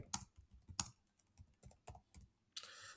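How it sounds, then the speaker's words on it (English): Keys on a computer keyboard are typed in quick, uneven bursts of clicks, close and quiet, with no talk. "type the email address of the person you want to send this to"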